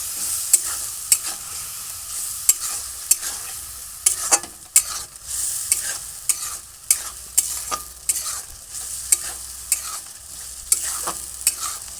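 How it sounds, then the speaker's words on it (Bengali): Spices with turmeric powder and a splash of water being stirred and fried in a pan for a potato-prawn curry, a steady high sizzle broken by regular spatula scrapes and knocks, close and alone with no voices. "আর অল্প জল দিয়ে ভালো করে আমি কষিয়ে নেব মশলাগুলো"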